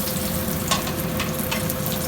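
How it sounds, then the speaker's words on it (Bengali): Dried red chillies fry in hot oil with a steady close crackling sizzle and a few sharper pops, alone with no speech. "আগে শুকনো মরিচটা একটু তেলে ঠিক করে দেবো।"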